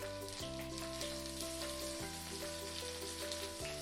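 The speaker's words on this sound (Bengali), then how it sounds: "খুব কম আঁচে ভাজতে হবে জিনিসটা" Prawn paturi wrapped in bottle gourd leaves frying over very low heat in a little hot oil, a steady soft sizzle running under sustained tonal background music.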